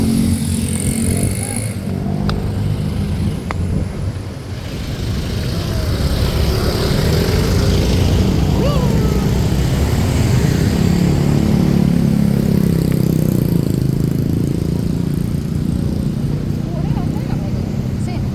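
Motorcycles and cars idle and rumble in a busy Bekasi parking lot, a steady loud low drone of engines with passing revs and background voices throughout.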